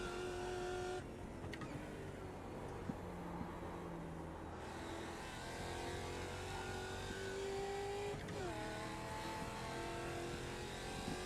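A race car engine in the AMS racing game at Imola, a steady high-revving drone with gear shifts and rising and falling pitch, heard close up throughout.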